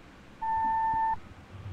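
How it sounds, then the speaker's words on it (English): An answering machine beep in the horror game Monument Mythos, a single clean electronic tone lasting under a second, clear and loud over faint background rumble. "Please leave your name and phone number after the beep."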